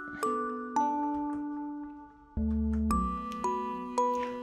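A bright notification chime of clear bell tones, struck about eight times in a slow rising and falling melodic pattern, each ringing out and decaying, heard alone without speech.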